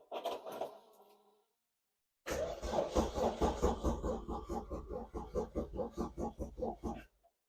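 An Opel Nova's C20LET engine, fitted without injectors or fuel, cranks on a jump pack with a flat battery: a brief faint burst, a pause, then a rapid rhythmic churning of cranking strokes for about five seconds before cutting off.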